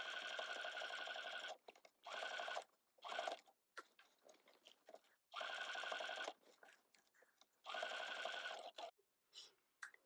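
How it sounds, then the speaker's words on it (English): A sewing machine stitches the edges of a fabric pumpkin pouch in several rapid whirring bursts, separated by short pauses and small handling noises, close and clear. "I'm going to go ahead and sew both of these edges so we've got something solid to work with"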